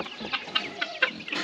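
Several chickens cluck and chatter together nearby, a steady overlapping murmur of short calls with no talking.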